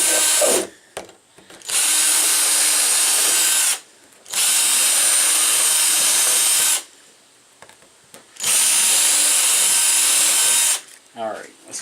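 A power drill drives screws during a door lock installation, running in three long, loud bursts with brief pauses between them and faint handling noise in the gaps.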